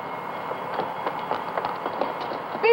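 A train rolling past with rhythmic clickety-clack wheel beats over a steady rumble, fairly loud and close, with a sharp squeal at the end and no talking.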